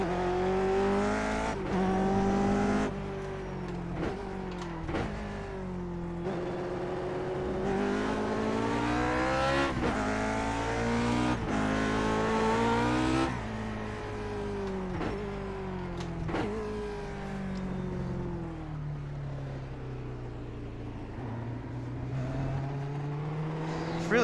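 Lotus 49 vintage Formula One car engine in iRacing, a loud, continuous harmonic engine wail that repeatedly climbs through revs and drops on upshifts and braking, then settles to a lower drone near the end.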